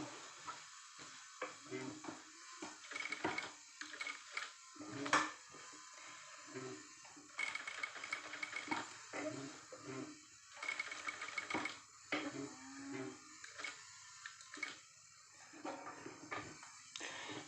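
A sewing machine stitching a cut work blouse, running in short bursts of rapid whirring with pauses between, close and moderately loud.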